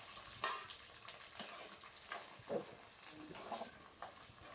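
Small sambar onions fry and get stirred in a pan, giving a steady close sizzle broken by scraping stir strokes every second or so, with no talk.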